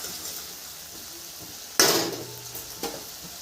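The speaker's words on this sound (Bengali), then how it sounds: "এইভাবে খুন্তি দিয়ে একটু এভাবে ঘেঁটে দিব।" A spatula stirs frying tomato in a pan with a scrape and sizzle burst, then one more brief clack.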